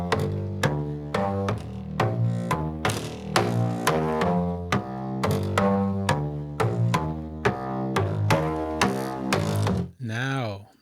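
A multi-sampled upright bass instrument called meat bass, played as a series of plucked notes with distinct attacks in a steady rhythmic line, fairly loud and alone, ending with a brief warbling tail.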